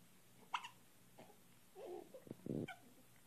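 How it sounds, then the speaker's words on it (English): A baby hiccups in a quiet room, giving a few sharp, separate hiccups spread over a few seconds, mixed with soft breathy baby noises close to the microphone. "He got the hiccups."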